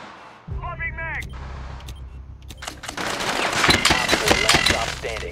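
Automatic gunfire in Rainbow Six Siege during a hostage match on the Kafe map, with bursts of shots and impacts through walls, growing louder and denser toward the end, mixed with in-game effects and some voices.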